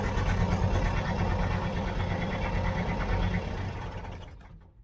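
A 1967 Volkswagen Type 3 Squareback engine idles with a steady, busy mechanical chatter, then sags and fades out to silence as it dies after the battery terminal is unhooked.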